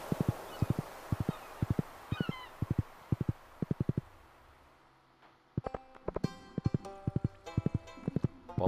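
Horse hooves clip-clopping in paired, evenly spaced beats while riding along a beach in Stardew Valley, crisp and close over soft ambient game music, continuing steadily throughout.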